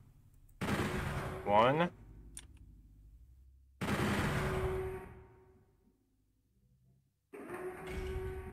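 Gunfire in the video game Doom 64 comes as three separate loud blasts, each with a decaying tail, while a player talks briefly over them.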